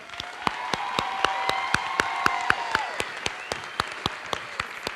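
A graduation commencement audience applauds. Sharp, evenly spaced individual claps ring out close by over a softer wash of crowd clapping, with a few faint voices mixed in.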